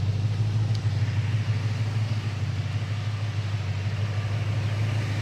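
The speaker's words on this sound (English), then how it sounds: "Smooth running 289 underneath the hood." A 1966 Ford Mustang's 289 V8 idles with a steady, low rumble, continuous and even, smooth and close, with no other sounds over it.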